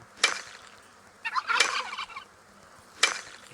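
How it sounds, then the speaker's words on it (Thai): A video game chicken calls in three squawking bursts, a short one, a longer warbling run, then a final squawk, fairly close over a low background hum. "ข้างๆนี่ไก่แน่นอน"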